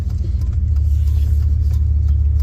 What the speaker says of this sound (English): Just waiting for this truck to pass.